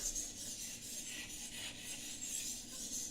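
A knife blade being sharpened on a diamond stone in a clamp-style sharpener, giving a steady, continuous raspy scraping with repeated strokes, close and fairly quiet, with no talking.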